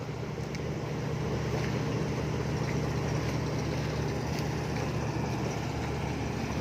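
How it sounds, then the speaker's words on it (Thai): A fishing boat's engine on the Pattani River, the boat being towed toward the fish pier, drones in a steady low idle, continuous and unchanging at moderate distance, with no talk. "เรือเข้าพอดีครับ"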